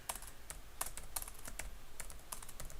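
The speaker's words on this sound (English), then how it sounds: "So I'll type git add, and then I type exactly what it says here." Quick, light clicks of a computer keyboard as a git command is typed, an uneven run of close keystrokes alone for a few seconds.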